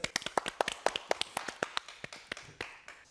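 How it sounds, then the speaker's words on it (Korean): Crisp hand claps in an even, steady rhythm, close and fairly quick, with nobody speaking. "박수 한번 주세요."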